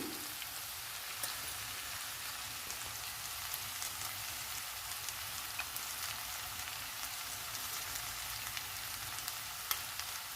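Carrot and capsicum curry with ginger, garlic and lentil powder fries in a pan with a soft, even, rain-like sizzle and occasional faint pops, steady from start to finish with no talking.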